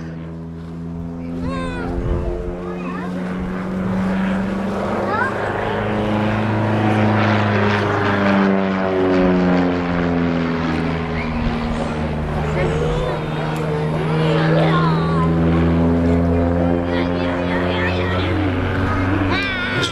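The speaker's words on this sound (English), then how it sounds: "This particular aircraft, very early version of the Bulldog, T Mark 1." An early SA Bulldog T Mark 1 propeller trainer flying aerobatics at an airshow, its engine droning loudly and rising and falling in pitch as it swoops and turns, with someone commentating over it throughout.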